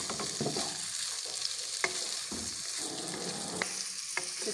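Chicken frying with garlic in a pan, a steady bright sizzle running throughout with occasional stirring scrapes and clinks, close and continuous with no talking.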